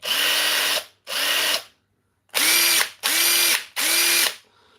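An old DeWalt DCF885 impact driver fires in five loud, close bursts of rapid hammering rattle, each roughly a second long. Short silences separate the bursts, with a longer gap after the second.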